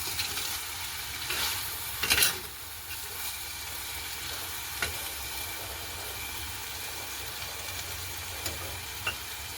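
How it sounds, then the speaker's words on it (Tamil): Green beans stir-frying in a pan with added tamarind: a continuous close sizzle with occasional scraping and stirring clicks, steady throughout. "இனி நாங்கள் கரைச்சி வச்சிருக்கிற புளியை கொஞ்சம் இதோட சேர்க்க போகிறோம் சேர்த்து அதையும் ஒருக்கா வடிவாக பிரட்டி விடுவோம்"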